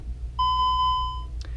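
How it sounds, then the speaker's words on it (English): A Honeywell Vista alarm keypad gives one long, clear electronic beep, steady in pitch and close by, followed by a brief click, in a quiet room. "And again, you get that triple beep."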